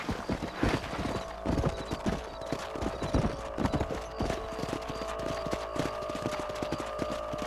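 Horse hooves clip-clop in a quick, uneven rhythm in a video game, Red Dead Redemption, close and clear, with a short whinny early on and no speech.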